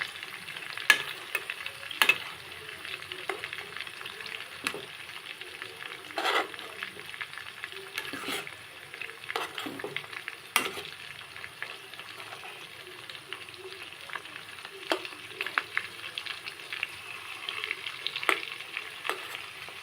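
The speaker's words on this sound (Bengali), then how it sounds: "পকোড়াগুলো খুব সুন্দর লাল লাল করে ভাজা হয়ে গেছে।" Bone-in chicken pakoras deep-frying in hot oil give a steady, close sizzle throughout, with occasional louder crackles and bursts as pieces are turned.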